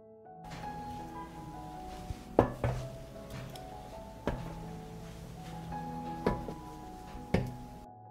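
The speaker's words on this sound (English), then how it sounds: "I put the cut pumpkin on the oven tray." Cut pumpkin pieces set down on an oven tray in a quiet kitchen, about six close, sharp knocks and clatters spaced irregularly over a soft background hum, with no talking.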